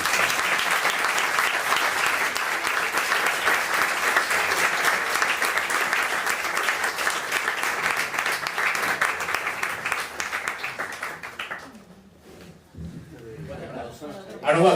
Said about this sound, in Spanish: Ahora un aplauso para Jesús.